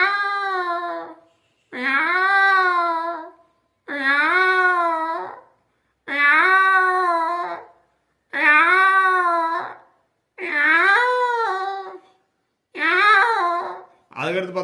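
A person imitates a cat, voicing about seven drawn-out, wavering meows in a steady series, each separated by a short pause, close and loud with no other sound.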